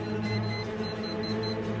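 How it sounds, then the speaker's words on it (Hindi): An alarm sounds in a student residence, a loud continuous droning tone layered with pulsing high beeps that repeat steadily, with no talking. "देखिए कि अलार्म अपने आप बंद हो गया।"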